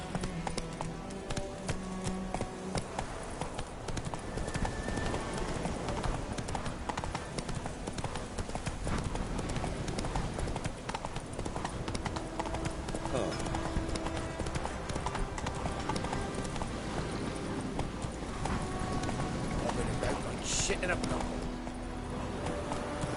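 Hooves from a horse galloping in The Witcher 3 keep up a steady, rapid clip-clop rhythm throughout, mixed with game sounds and voices talking over it.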